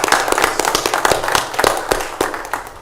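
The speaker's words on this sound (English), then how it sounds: "a round of applause for our county administrator" Applause from the audience at a Lake County, Ohio county commissioners meeting, a steady patter of many hands clapping with sharp individual claps standing out, continuous and fairly loud throughout.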